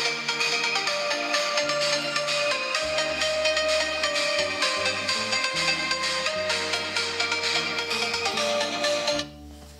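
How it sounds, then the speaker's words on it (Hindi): A Vivo V27 phone's built-in speaker plays a melodic ringtone alone at moderate volume, a steady looping tune of tonal notes over a bass pattern that cuts off abruptly near the end. "इसका ऑडियो क्वालिटी टेस्ट कर लेते हैं, ऑडियो कैसा आप लोगों को यहाँ पे आउटपुट मिलेगा।"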